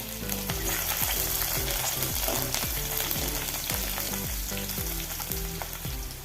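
Chopped garlic and mustard seeds fry in hot oil for a mango-ginger pickle, giving a dense, steady sizzle with faint pops throughout, partly masked by rhythmic tonal background music.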